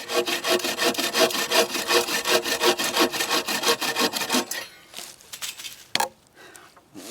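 A cheap $9 camping saw cuts through wood in steady, rapid rasping back-and-forth strokes for several seconds, then gives way to a few scattered scrapes and a knock.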